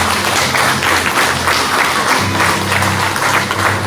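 A church congregation bursts into loud, sustained applause and clapping during worship, a dense steady roar of hands lasting throughout, with a low musical hum underneath.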